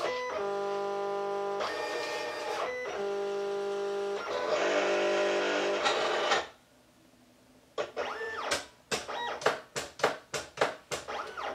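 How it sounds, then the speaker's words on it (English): A Silhouette Cameo cutting machine runs nearby, giving steady tonal motor whines in long bursts, then a pause and a quick series of sharp, rhythmic stepping clicks and whirs as it reads a registration mark. "annihilated with this cameo sound."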